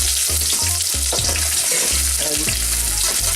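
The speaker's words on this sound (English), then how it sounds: "Oil is hot now and I'm going to put the chopped onion in and" Chopped onion sizzles in about half a cup of hot oil over high heat, a loud, close, crackling fry with repeated stirring scrapes at a steady pace, no voices.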